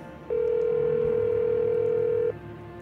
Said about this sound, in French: Ok, ça sonne.